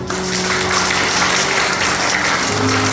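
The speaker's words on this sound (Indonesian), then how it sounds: "Mari kita berikan tepuk tangan untuk Tuhan." Congregation applause at a Christmas church service, thick continuous clapping that fills the room at a loud, steady level with a low musical hum underneath.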